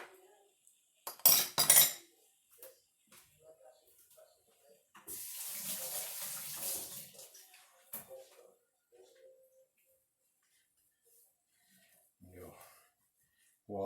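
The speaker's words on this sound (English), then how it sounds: "Wash of the hands." Hands washed under a running kitchen tap, a steady rush of water lasting a few seconds after a brief clink of utensils, with quiet scattered sounds around it.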